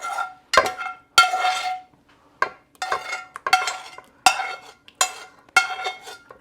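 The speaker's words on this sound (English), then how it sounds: "now we're going to add in our sauteed mushrooms, butter and all" Sauteed mushrooms with butter being added into a chicken casserole dish: a series of clinking, scraping utensil strikes against cookware in irregular bursts, fairly close, with no talking.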